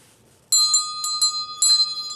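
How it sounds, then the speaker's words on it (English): A small bell rung by hand about five times in quick succession, bright clear ringing tones overlapping and sustaining, near and loud against a quiet background. "So I'm going to ring the bell"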